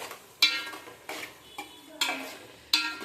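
Prawn curry being stirred in a pan after ground coriander, clove and cinnamon masala goes in, with four distinct scraping strokes spaced about a second apart over a soft background sizzle.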